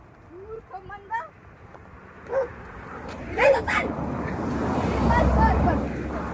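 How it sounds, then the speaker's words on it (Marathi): Several dogs bark and yip in an outdoor scuffle, with sharp bursts early and in the middle, and a sustained noisy tussle later, while people talk nearby over a low background rumble. "दुसऱ्या कुत्र्यांनी केलाय कमबॅक"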